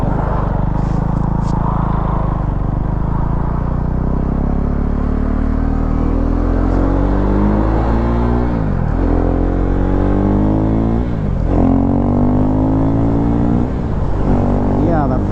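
A Husqvarna Svartpilen motorcycle pulls hard at full throttle, its engine note loud and close as it climbs steadily through several quick gear changes over a constant roar.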